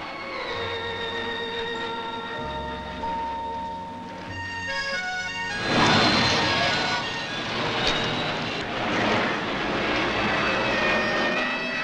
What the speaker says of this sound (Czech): Anglický letoun se svislým startem Hawker odstartoval úspěšně.